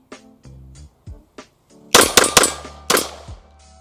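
A Walther PDP Steel Frame Compact pistol fires a string of shots outdoors. The first shots come as quicker, quieter reports, followed by a cluster of louder, sharper cracks close by.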